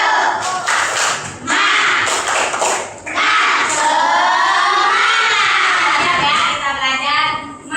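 Schoolchildren in a classroom doing a rhythmic spirit clap, loud bursts of clapping mixed with shouting and chanting voices, close and energetic, with brief pauses between sections.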